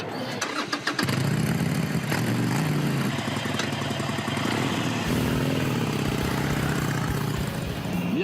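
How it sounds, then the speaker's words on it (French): A new Harley-Davidson Roadster motorcycle engine starting up in Milwaukee, Wisconsin, firing from quiet into a loud, steady rumbling idle that runs on, close and dominant. "écoutez ce son. Celui de la nouvelle Harley Roadster."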